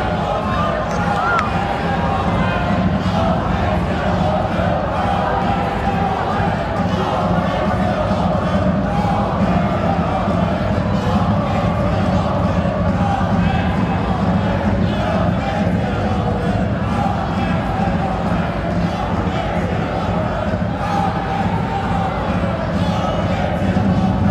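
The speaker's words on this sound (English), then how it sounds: "There's the chant from the home crowd now." Home crowd at a Bayern Munich versus Eintracht Frankfurt women's football match chanting in a loud, sustained rhythmic roar that fills the stadium throughout, with no talk on top.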